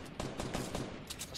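Rapid bursts of gunfire in the video game Fortnite, a quick series of sharp cracks in close succession, moderately loud over a busy background with no talking.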